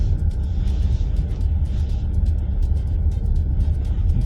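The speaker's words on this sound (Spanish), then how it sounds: "Ventaja de un coche híbrido ahora mismo en función eléctrica." An EBRO S800 PHEV hybrid SUV rolling along in electric mode, heard as a steady low road and cabin rumble with soft tire and wind noise, continuous and fairly even throughout with no speech.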